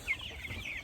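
Chickens cluck softly in a brooder, a murmur of small calls with one brief sharper note near the start, steady and fairly quiet throughout.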